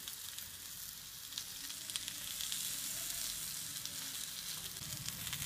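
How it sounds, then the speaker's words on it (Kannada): Akki rotti, a rice flatbread, sizzles on a hot griddle with a steady, soft hiss of frying and faint crackles, close by and without talk. "ಈಗ ಇದನ್ನು ನಾನು ಬಿಸಿ ಕಾವಲಿ ಮೇಲೆ ಹಾಕ್ತಾ ಇದ್ದೀನಿ ನೋಡಿ"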